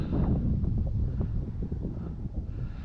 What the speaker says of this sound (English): That wind's out of the due north, so that makes it absolutely cross runway landing